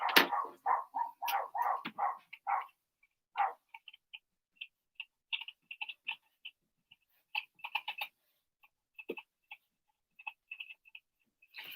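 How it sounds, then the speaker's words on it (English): Dogs bark outdoors in a quick volley of loud, close barks, then scattered fainter, more distant barks and yaps follow with gaps of quiet. "Oh, dogs are giving it beans."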